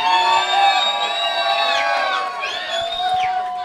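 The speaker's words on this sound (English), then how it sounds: "let me hear you make some noise" A live crowd at a beat battle cheers, whoops and shouts loudly and continuously, with high excited voices swelling throughout.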